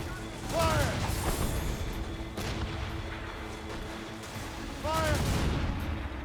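Ship cannons fire in Assassin's Creed Rogue, heavy booming volleys with crackling, rolling tails, a burst early and another near the end, with voices shouting over the sea battle.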